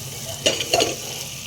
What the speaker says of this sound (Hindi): अब हम इसमें डाल देंगे अपना मक्खन